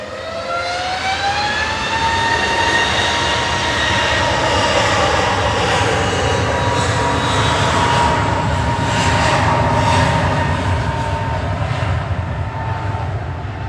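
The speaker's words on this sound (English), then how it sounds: "And it's an EasyJet A321 departing OE ISG back to Lisbon with flight 6728." An EasyJet Airbus A321 departs Manchester Airport, its jet engines roaring loudly and steadily with a high whine that slides downward as it moves away.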